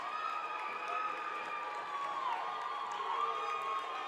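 Fans at a North Dakota girls high school ice hockey state tournament keep up a steady hum of cheering and shouting in an arena. It sounds fairly distant and even, with a faint whistle-like tone threading through.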